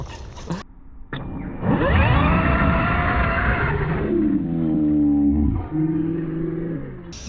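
A Losi DBXL-E 2.0 electric RC car spools up at full throttle, a loud rising motor whine with gear harmonics sweeping upward, holding, then dropping and surging again over about six seconds, close by.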